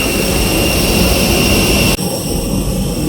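Jet airliner engines roar loudly at an airport after a night landing on a Delhi to Sharjah flight, a steady whining drone with a strong high tone that abruptly dips and thins near the end.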